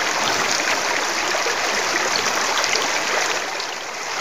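A cold mountain stream in Sheikh Ali district, Afghanistan, rushing steadily and loudly in a dense, unbroken wash of flowing water, close by with no voices.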